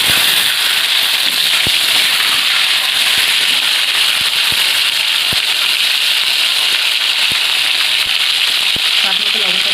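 Tomato dropped into hot oil already tempered with red chillies and five-spice (panch phoron) gives a steady, loud broadband sizzle with scattered sharp crackles and pops throughout, while cooking a cauliflower and prawn dish.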